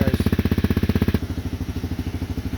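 A Honda CRF250L motorcycle with an FMF Q4 exhaust idles while warming up, a close, rapid, evenly pulsing single-cylinder thump that drops to a softer, lower beat partway through.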